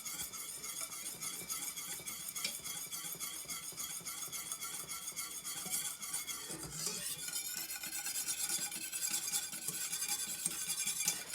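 A spoon stirs a thick caramel mixture in a pan just moved off the burner, with continuous faint scraping and light clinks over a soft bubbling sizzle.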